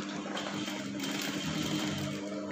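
A sewing machine runs steadily, stitching a stand-up mandarin collar in brocade fabric, with a continuous close buzzing whir and no pauses.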